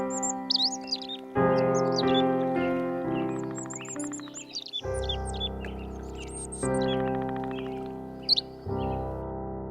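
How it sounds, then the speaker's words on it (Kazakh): Morning birdsong in an animated cartoon: high chirps and tweets over sustained musical tones that shift in blocks, with brief bright calls scattered throughout and no talking. "Қайырлы таң, құстар."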